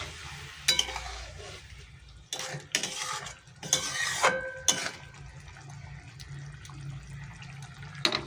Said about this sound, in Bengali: আমি একটু ভালো করে নেড়ে দেবো।